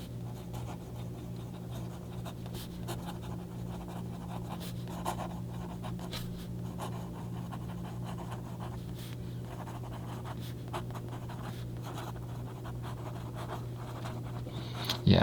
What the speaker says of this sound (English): So let me just write the sentence.